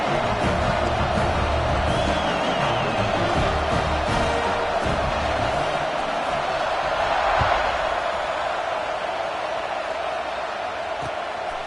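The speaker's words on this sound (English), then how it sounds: "this crowd is buzzing after that last score" Football stadium crowd buzzing after a score at an NCAA game at NC State, a broad steady roar of many voices filling the whole stretch, fairly loud and continuous with occasional swells and thumps.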